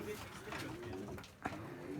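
Tumbler pigeons coo in a handmade backyard coop holding about fifteen birds, their soft, low, rolling calls repeating close by, with a faint voice murmuring in the background.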